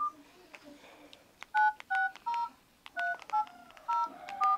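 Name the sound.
phone keypad dialing tones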